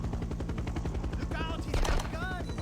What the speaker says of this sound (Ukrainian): Бачите, в гелікоптер стріляє, придурок.